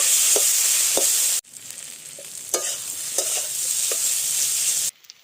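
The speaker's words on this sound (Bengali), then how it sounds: "এবার আলুগুলো দিয়ে দিচ্ছি ভাজা আলুগুলো ভালোভাবে একসাথে কষে নেব" Fried potatoes stirred and sautéed in a pan with turmeric for a jackfruit curry: a steady loud sizzle, then a brief drop and resumed frying marked by a few scraping clicks of the spatula against the pan.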